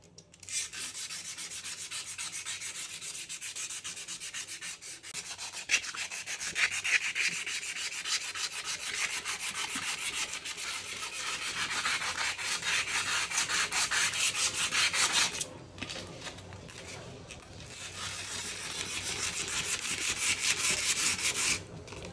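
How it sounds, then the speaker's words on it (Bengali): Sandpaper rubbed by hand over a blackened kitchen sink, a continuous close scratchy rasp in steady back-and-forth strokes with a couple of brief pauses. "আমি এই জায়গাটাতে একটু ঘষে দেখাই"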